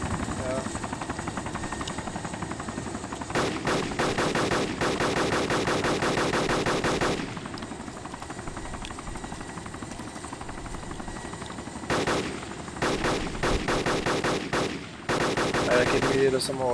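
Bursts of automatic gunfire in DayZ at night, rapid cracking volleys in several long strings with short pauses, loud and close over a constant helicopter rotor drone, with someone talking excitedly in between.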